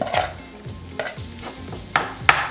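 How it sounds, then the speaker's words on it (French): Rice frying in melted butter in a pan, a soft continuous sizzle broken by repeated spoon scrapes and stirring knocks, close and fairly loud. "mon beurre est fondu. Je rajoute le riz. Et je vais le faire frire."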